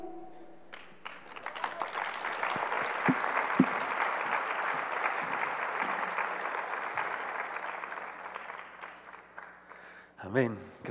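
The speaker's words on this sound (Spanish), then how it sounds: "Otro aplauso, por favor, a los pequeños y a todos los participantes." Audience applause at a children's concert, a long sustained wash of many people clapping that swells and gradually fades, with a voice speaking near the end.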